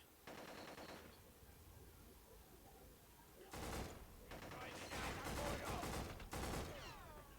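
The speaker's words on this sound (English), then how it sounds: "I don't like burst fire." Short bursts of video game gunfire crackle out in separate clusters, one early and several close together later, sharp and fairly quiet against a low background hiss.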